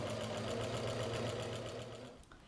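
Electric sewing machine stitches steadily around the edge of a baby shoulder rug, a close, even whirring hum with rapid rhythmic needle ticking that slows and stops at the end.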